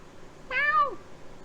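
A single clear cat meow, close and moderately loud, rises and falls for about half a second in an otherwise quiet room.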